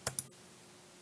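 Two quick, crisp computer mouse clicks land close together near the start, followed by near silence, as settings are saved in ProjectWise software.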